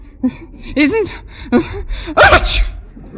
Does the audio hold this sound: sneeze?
yes